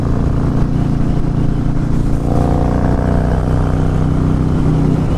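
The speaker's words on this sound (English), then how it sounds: "You feel those pistons firing up and down" Harley-Davidson Fat Boy S motorcycle engine running while riding into the desert, a loud continuous low rumble with a steady pulsing throb and road noise throughout.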